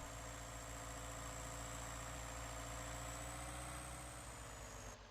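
A steady, loud engine drone from a John Deere 6405 tractor driving in Farming Simulator 19, a constant low hum with a high whine above it and no breaks, alone without voices.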